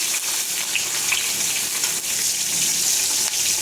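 Slit green chillies dropped into hot oil with five-spice (panch phoron) in a pan, cooking for a bottle gourd dish: a loud, close, continuous crackling sizzle that holds steady throughout with no talking.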